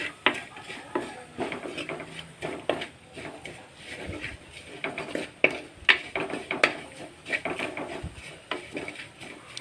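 Masala being stirred in a pan for a Palakkad-style sardine curry, with irregular scraping and clinking of a utensil against the pan, close and fairly quiet.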